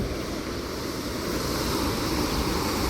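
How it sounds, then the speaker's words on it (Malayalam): Dense, constant roar of rushing water, loud and unbroken, as a strong flow from a dam gushes through a canal. "അടിയിൽ കൂടെയാണ് വെള്ളം ചാടുന്നത്. ഈ വെള്ളത്തിൻ്റെ തള്ളലാണ് നമ്മളാ കാണുന്നത്"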